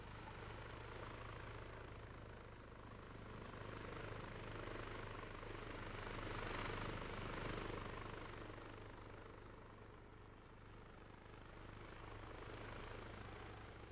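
Helicopter flying at night in Arma 3, a continuous rotor thrum and engine drone that swells and eases gently over the whole stretch, heard alone.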